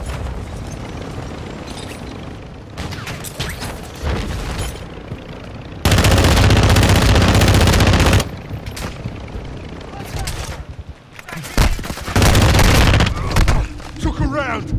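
Bursts of gunfire ring out in Call of Duty, loud stretches of sustained shooting alternating with quieter gaps, while players talk over the combat.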